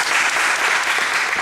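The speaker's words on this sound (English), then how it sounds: "I'd like to give you a round of applause for that." Volunteer coaches at a coaches clinic clap together in a brief, dense, loud burst of applause that fills the room from start to finish.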